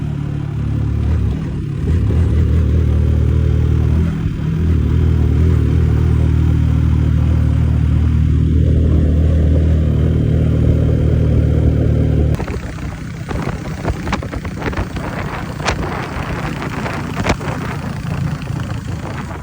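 Yamaha Y16ZR motorcycle with 100,000 km mileage, ridden in fourth gear: a loud steady engine drone at close range with pitch dips and rises, then a shift to rougher, clattering noise with wind.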